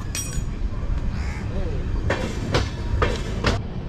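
An Eastern Railway train rolls slowly past track works near Dum Dum, a steady rumble broken by evenly spaced wheel clacks over rail joints, with crows cawing faintly.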